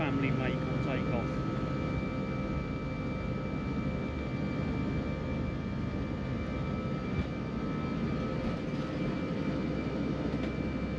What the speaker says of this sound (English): That whining sound, the engines of the A320 family make on takeoff.